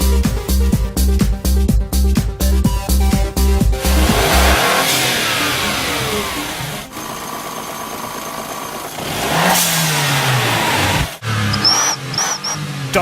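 A non-turbo car engine with a compressed-air contraption that fakes a turbo blow-off, revving in rhythmic pulses before settling into a rough idle, with loud sharp hissing bursts near the end.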